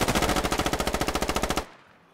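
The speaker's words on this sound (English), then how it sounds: "Gunfire coming in like this. Firing in a lot of bullets." Rapid automatic gunfire in the video game Squad rattles in a fast, even burst of about twenty shots, loud and close, then stops abruptly.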